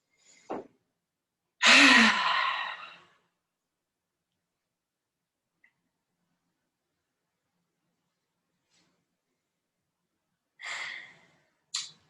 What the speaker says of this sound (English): everybody's just breathing through the nose and out